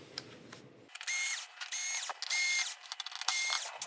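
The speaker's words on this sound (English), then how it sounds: "we've just got some screws to take out." Screws are driven out of the back panel of a Samsung PN50C550G1F plasma TV, with several short bursts of whirring from a power driver separated by brief pauses.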